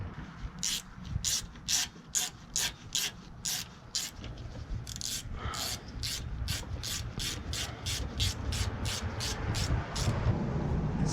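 A ratchet tightening 10mm radiator bolts on a Toyota Highlander or Lexus RX350, rapid evenly spaced clicking in bursts over a low rumbling background, close up.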